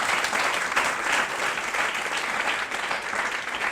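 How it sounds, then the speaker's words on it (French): A crowd at a competition event applauds strongly, a loud, dense, sustained roar of clapping that holds steady for several seconds without any talking. "Je vous demande d'applaudir très fort pour Monsieur Prosper et toute son équipe"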